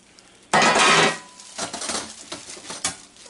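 Metal parts of a Brooklyn Brownie copper baking pan clatter as they are handled, starting with a loud clanking burst and then lighter, scattered clinks and taps nearby.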